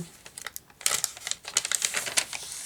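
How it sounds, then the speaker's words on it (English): Crisp tracing paper rustling and crinkling, close by, in a quick run of soft rustles followed by a louder burst of crackly handling. "Love the sound of the paper."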